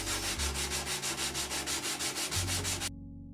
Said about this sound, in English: I'm using a sanding block with some old sanding paper for my